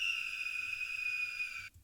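A death whistle sample from an ancient bones sound library plays as a steady, shrill, high-pitched tone with layered harmonics, sustained for nearly two seconds before cutting off abruptly.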